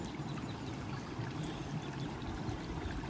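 Creek water flows and trickles steadily close by, a continuous gurgling wash with no talking.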